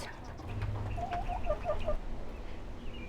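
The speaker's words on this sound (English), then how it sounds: "Backyard chickens," Backyard chickens on a small city lot, soft low clucking and brief higher calls, faint and somewhat distant over a steady outdoor background.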